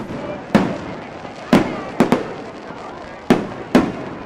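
Independence Day fireworks bursting outdoors during a public show, five or six sharp booming explosions at irregular intervals over a steady crowd murmur.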